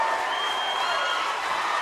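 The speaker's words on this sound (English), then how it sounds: "Deer Lakes fans rejoicing." Deer Lakes basketball fans roar and cheer in a high school gym after a game-winning shot in a 39-38 playoff win over Ellwood City, a dense, steady wash of crowd noise and applause.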